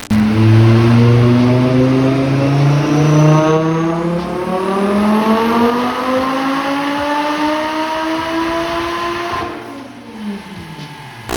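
A Porsche 944 with a swapped 07K engine revs hard on a dyno, climbing steadily in pitch for several seconds, loud and continuous, then drops off sharply near the end.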